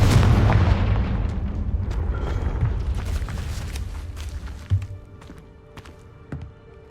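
A Confringo explosive spell cast in Hogwarts Legacy: a loud booming blast opens and decays into a rumbling tail, followed by a few quieter thuds and footsteps.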